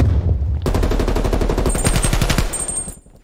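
An AK rifle fires in Call of Duty Black Ops Cold War, a rapid, loud automatic burst of evenly spaced shots lasting about two seconds before cutting off, with no talking.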